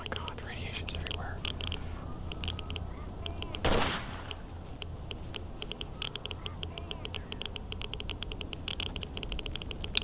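Gunfire in the video game STALKER: Shadow of Chernobyl, Red Forest level, sounds as rapid, crackling shots through a long stretch, with one louder burst near the middle and a low voice murmuring over it.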